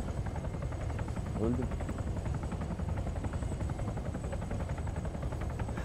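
A helicopter flies in the military game Arma 3 during an Altis Life gas-station robbery, its rotor thrumming as a steady, pulsing low drone throughout while someone talks over it.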